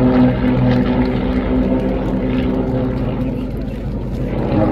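Powerful aircraft engines roar continuously at the Radom air show, a loud, steady propeller drone with a deep rumble that holds without a break from start to finish.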